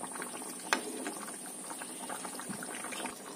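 A restaurant-style chicken curry gravy bubbles on a high gas flame, making a faint, steady, crackling simmer with one small sharp tick near the start and no voices.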